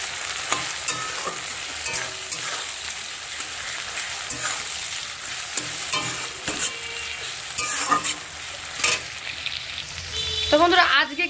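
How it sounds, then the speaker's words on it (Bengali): Two small tomatoes and a little salt fry in a pan with a steady sizzle broken by repeated scraping and stirring strokes, growing busier toward the end. "এবার আমি দিয়ে দিলাম ছোটো ছোটো দুটো টমেটো আর একটু লবণ। এবার এটা দিয়েও ভালো করে একটু ভেজে নেব।"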